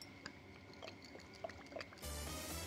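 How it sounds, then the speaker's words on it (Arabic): Oil poured into a pot of boiling water in a kitchen, a faint trickle with small drips and bubbling, then a louder steady rushing pour at the end, no talk. "هناخد على ميه بتغلي، ميه بتغلي، نحط فيها شويه من الزيت"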